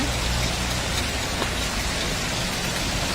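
Steady rainfall patters on a hard surface, a dense continuous hiss of drops with no talking and no thunder.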